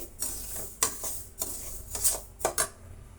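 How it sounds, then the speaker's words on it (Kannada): Semolina being dry-roasted and stirred in a pan on the stove, heard as a series of close scraping and clinking strokes of a spoon against metal in an irregular rhythm. "ಬಾಣಲಿನಲ್ಲಿ ರವೆನ ಚೆನ್ನಾಗಿ ಹುರಿಬೇಕಾಗುತ್ತೆ"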